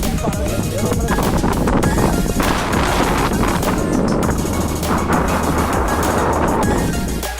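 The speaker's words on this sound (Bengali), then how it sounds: "তোমরা শুধু হাওয়ার শব্দই শুনতে পাবে।" Strong sea wind buffets the microphone on an open beach at Bakkhali, a continuous loud roar and rumble throughout with no letup.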